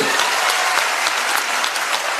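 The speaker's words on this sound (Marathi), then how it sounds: "एकदा जोरदार टाळ्या होत्या विचार मंचासाठी" Steady, dense applause from an audience cheering for the Vichar Manch at a motivational talk, loud and continuous with no pauses.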